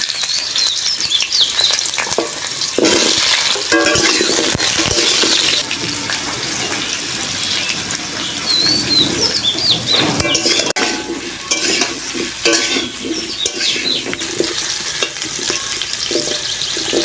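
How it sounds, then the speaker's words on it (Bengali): Pumpkin pieces fry in mustard oil in a wok, with a loud, steady sizzle, stirring, and spatula scrapes against the pan throughout. "এবার কুমড়োটা ভেজে নেব।"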